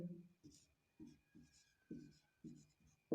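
Pen or chalk writes out a geometry theorem proof in a class 10 maths lesson, making a series of short scratchy strokes in an uneven rhythm, close and fairly quiet.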